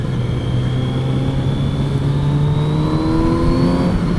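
A 2018 Kawasaki Z900RS motorcycle engine revs steadily through its stock factory exhaust, a loud, close, continuous drone that climbs slowly in pitch.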